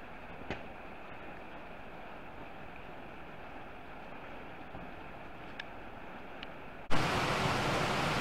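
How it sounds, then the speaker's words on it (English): Heavy rain pours steadily down during a catfishing outing on the water, a dense, continuous hiss with a few faint ticks, swelling abruptly louder near the end. "It's really coming down, so just ignore the rain noise."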